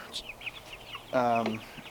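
Backyard chickens on a rural North Idaho property give soft, scattered clucks, then one hen lets out a louder drawn-out squawk that stands alone before the quiet clucking resumes.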